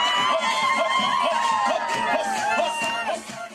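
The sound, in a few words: crowd cheering at festival float procession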